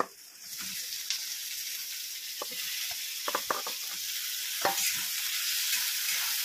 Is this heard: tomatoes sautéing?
yes